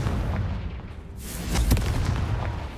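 A Confringo spell explosion in the Hogwarts Legacy video game, a sharp blast with a rumbling burst midway through a short stretch of low game noise.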